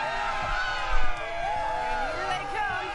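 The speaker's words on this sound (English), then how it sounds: "Let's have a cheer for Titus 2." Crowd cheering in the video game Borderlands 3: a continuous roar of game crowd noise with babble and whoops, swelling briefly loud about a third of the way in, overlaid with tonal game music or effects.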